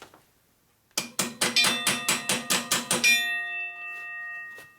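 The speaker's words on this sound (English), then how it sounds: "So you just beat these on with a hammer." Nine sharp metallic hammer strikes in a quick, steady rhythm as weights are beaten onto a motorcycle wheel, close by, the last one leaving a bright ringing tone that fades out slowly.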